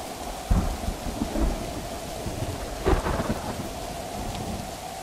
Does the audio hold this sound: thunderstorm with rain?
yes